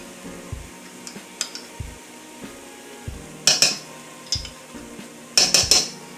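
Nice big spoonfuls of minced garlic go into a pot of chili with Hatch and Bishop's Crown peppers, heard as a series of sharp metallic spoon clinks and taps against the pot, several louder clusters among softer knocks.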